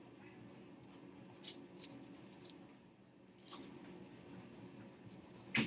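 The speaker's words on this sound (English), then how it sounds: "you're going to use 2 fingers and you're going to rub on the back like this" Two fingers rub and burnish the back of printmaking paper, producing soft, close scratchy friction strokes in a quiet room, ending with a slightly louder rustle.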